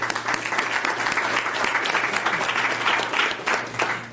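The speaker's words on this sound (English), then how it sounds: "I'd like to give everyone a round of applause on this." Applause ripples through the audience at a Washington County, Arkansas quorum court meeting, with a few seconds of lively, close clapping from a modest crowd.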